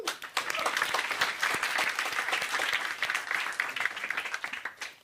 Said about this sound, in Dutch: Applaus voor Marit.